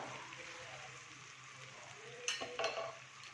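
Tomato, onion and spices frying in a pan, with a soft steady sizzle and a few sharp stirring scrapes near the end.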